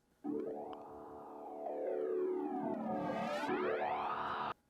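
A distorted electric guitar hard rock riff run through an 8th-note step-sequencer filter effect plugin, its tone warping and gliding upward, loud and continuous for several seconds.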